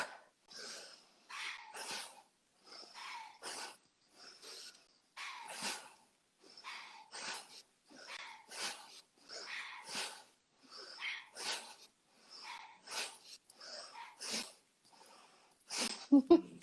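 During a mindfulness breathing exercise, someone breathes in and out through the nose rapidly and forcefully in a quick run of sharp, hissing nasal puffs, each one close and distinct.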